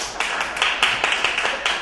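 A small audience at a poker comedy show claps in a short, sparse patter of hand claps, moderately close and without talking.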